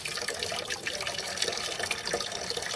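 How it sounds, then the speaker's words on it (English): Water runs slowly from a frost-proof farm hydrant, a steady close splashing trickle with no pauses. "the water coming out isn't coming out very fast"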